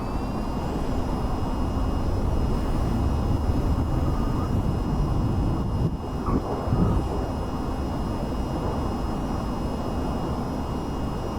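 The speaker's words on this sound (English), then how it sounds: "Alright, I kind of did a vertical takeoff." Jet engine roar from an aircraft making a vertical takeoff in the VTOL VR flight game, a loud, steady broadband rumble held throughout with a slight dip midway.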